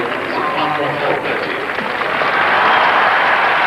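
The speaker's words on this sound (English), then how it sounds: "And round of applause for Eddie Hemmings' bowling figures just announced over the public address system" A cricket crowd at a 1982 one-day international between England and Pakistan applauds a bowler's figures, a broad steady patter of clapping that swells toward the end while a commentator talks over it.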